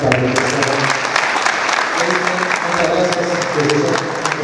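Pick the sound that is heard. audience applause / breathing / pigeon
audience applause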